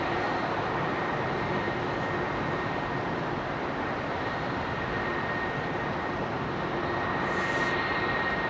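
An ITA airliner taxis out at Heathrow as a continuous, even jet roar holds steady throughout, moderately loud and unbroken, with no voices.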